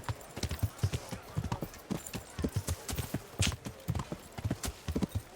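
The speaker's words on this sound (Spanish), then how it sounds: "Ese caballo siempre lo veo por aquí." A horse's hooves clip-clop in a quick, uneven rhythm in the medieval video game Kingdom Come: Deliverance, close and moderately loud, with a faint whinny-like sound and no talking over it.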